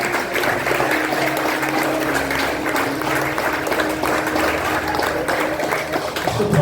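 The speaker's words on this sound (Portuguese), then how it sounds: "Aplauda o Senhor porque Ele é digno." Church congregation clapping and applauding for a worship moment, a steady dense wash of hands with no break, fairly loud and close, over a low sustained musical tone.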